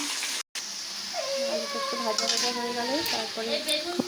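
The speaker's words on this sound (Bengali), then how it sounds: "আলু দিয়ে দিলাম" Potatoes sizzle in hot oil with nigella seeds and chilli for a home-grown spinach dish. A soft steady hiss runs beneath a person talking nearby.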